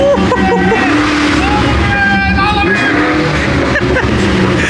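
A BMW E92 M3 is driven hard nearby, its engine revving and wailing up and down loudly while tires may briefly skid, with people talking and shouting excitedly over the noise.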